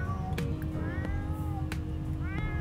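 A pet cat meowing, a few short close meows with a couple of sharp clicks, over a steady low background hum.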